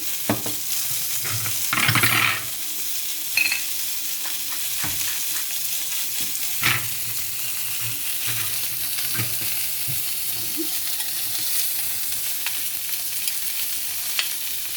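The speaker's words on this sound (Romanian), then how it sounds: "Am pus și baconul la prăjit." Bacon sizzles and crackles in a pan, with a few sharp clatters and stirring noises over the steady frying hiss.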